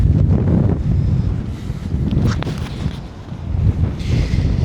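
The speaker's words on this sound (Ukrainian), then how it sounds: "А вітер такий, що мене мене зносить" Strong wind roars and buffets the microphone continuously beside a truck, with gusts swelling and easing, and no other clear sounds.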